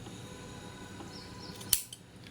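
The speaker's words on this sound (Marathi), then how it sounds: "हे आतल्या बाजूने थोडेसे कॉर्नर कट करायचे म्हणजे ते कोणे खूप छान येतात" Scissors snip the corner of a purse sewn from saree-border fabric: one crisp, quiet cut near the end after faint room noise, with no talking.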